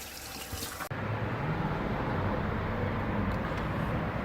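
A shirt being rinsed under a running tap, a steady close rush of water that starts abruptly about a second in and then flows evenly, loud and unbroken, with no voices.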